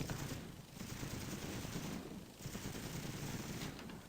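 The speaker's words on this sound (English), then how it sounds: "Let's fire one rocket at it." Rockets fired at a large ship in the Space Engineers video game, heard as a dense, continuous roar of explosive bursts, with two swells and a short dip between them, at a steady, moderately loud level.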